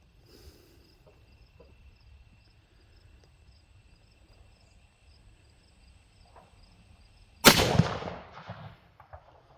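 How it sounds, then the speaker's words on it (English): A Savage 110 High Country rifle in .30-06 Springfield fires a Federal Premium 175 grain Nosler ballistic tip round at a milk jug outdoors: one sharp, loud blast with a rolling tail after a quiet stretch with faint insect chirps. "Definitely want to stick with ballistic tips for shooting milk jugs."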